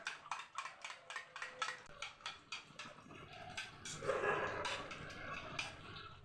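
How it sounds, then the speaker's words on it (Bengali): Two eggs being beaten in a bowl with a utensil, a quick run of about a dozen rhythmic clinking strokes, close and fairly quiet, followed by softer stirring and scraping. "দুটা ডিম ফেটে দিব এটার মধ্যে।"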